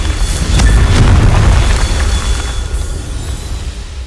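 Confringo spell blasts erupt in Hogwarts Legacy, a loud booming explosion that swells early, then rumbles and slowly fades with crackling debris, no talk over it.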